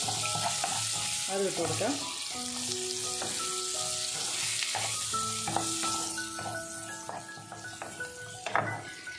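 About ten chopped shallots and a large onion hit hot oil in a pan for a Kerala fried chicken curry, giving a steady close sizzle throughout while someone talks over it.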